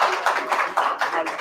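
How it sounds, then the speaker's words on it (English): Audience at a talk gives a burst of clapping to welcome Dr. Parth Vaishnav on stage, rapid dense hand claps in irregular surges, close and lively for the whole moment. "With a round of applause."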